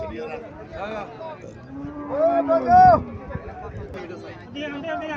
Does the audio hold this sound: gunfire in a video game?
no